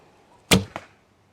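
An arrow leaves a Hungarian-style bow: a single sharp snap of the string and release, followed a moment later by a softer second thud, close and brief against a quiet background.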